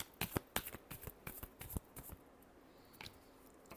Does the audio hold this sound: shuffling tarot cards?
yes